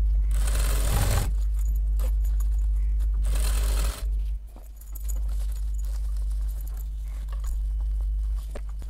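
A sewing machine stitching a simple cloth shopping bag, whirring in two loud bursts of running stitches, then quieter intermittent clicks and handling of the fabric.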